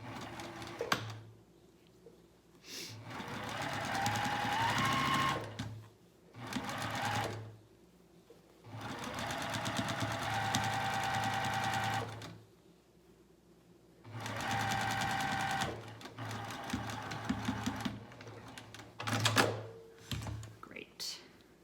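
A sewing machine stitches down the side of a pajama pant pocket in several close, loud bursts of rapid stitching, separated by pauses where a person talks.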